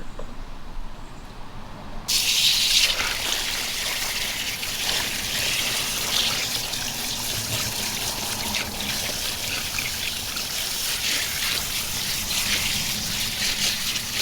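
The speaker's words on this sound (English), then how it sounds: "Here to rinse out another t-shirt." Running water from a tap gushes steadily as a tri-colour tie-dyed t-shirt is rinsed beneath it, starting after a quieter moment and continuing as a close, even splashing hiss.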